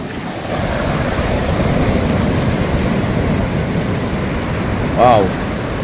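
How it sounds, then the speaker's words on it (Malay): Large ocean waves crash and roll continuously onto the shore at Timang Beach in Jogja, a loud broadband surf roar with wind buffeting the microphone and a brief louder burst near the end. "Ombak besar, geng. Ombak besar."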